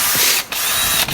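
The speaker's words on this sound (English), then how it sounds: "And I need to drill all these out." A drill whines loudly in short bursts, briefly stopping twice as it bites into metal, drilling out rivets on a vintage Harley-Davidson motorcycle.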